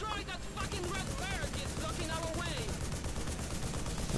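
Rapid bursts of gunfire in the video game Global Ops: Commando Libya crackle continuously over layered game sound effects and music, with a voice talking intermittently.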